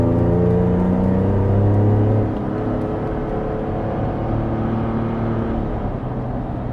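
2017–2018 Ford F-150 Raptor pickup truck driving in sport mode, its engine giving a steady low rumbling drone that drops slightly in pitch partway through as the truck shifts.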